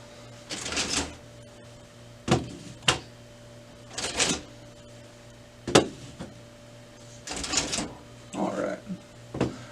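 Toner cartridges and drums are pulled one by one from a Brother MFC-L3770 colour laser printer, giving several short plastic clicks and sliding scrapes spaced a second or two apart over a steady low electrical hum.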